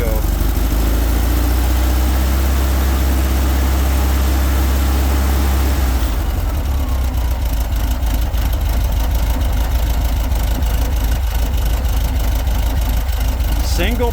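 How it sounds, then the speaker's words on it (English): A 1776 cc air-cooled VW engine with single-port heads and dual Dellorto carburetors idles steadily on its first start in six months, running as a loud continuous low rumble that changes character about halfway through. "once this engine starts, it likes to idle itself warm."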